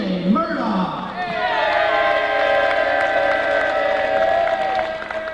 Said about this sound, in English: there you hear the warm crowd welcome from the Pedigo Submission Fighting faithful